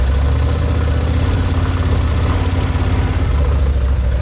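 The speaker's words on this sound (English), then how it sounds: "As you can see, the front drag shaft now is spinning." Can-Am Maverick side-by-side engine running steadily nearby with its front drive shaft spinning, a loud continuous low rumble and drone with no talking.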